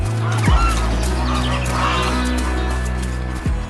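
Cartoon geese honking in a farm animation, repeated loud nasal honks over a continuous musical backing, with sharp accents near the start and end.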